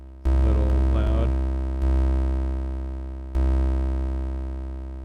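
An Elektron Digitakt 2 plays a dry synth patch with no effects, a loud sustained tone struck three times, each note decaying slowly, with a brief buzzy textured burst near the start.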